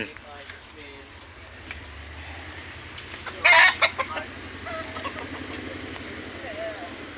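Chickens cluck steadily nearby while a rooster crows loudly partway through, with people talking in the background.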